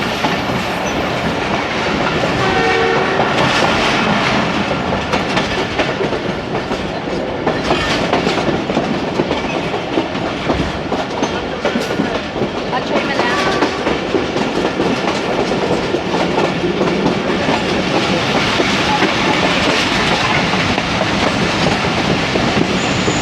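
A passenger train rolls past close by in Pakistan, loud and continuous, with rhythmic clickety-clack of wheels on rails and occasional metallic squeals.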